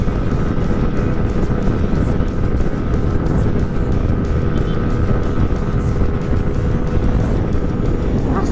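Sustained, loud engine drone from a motorcycle with a Qala Performance racing exhaust cruising in fourth gear, holding an even pitch throughout with no voices.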